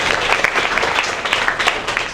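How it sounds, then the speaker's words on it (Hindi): Audience applause at a school or public gathering in Bihar, a steady wash of many hands clapping that holds loud and even from start to finish, with brief swells but no gaps. "ताली बजाएंगे।"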